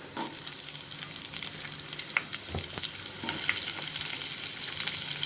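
Green chillies and onions fry in hot oil for upma, a dense continuous sizzle that swells slightly toward the end, with a few soft stirring scrapes close by and no voices.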